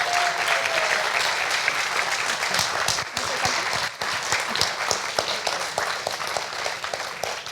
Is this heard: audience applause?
yes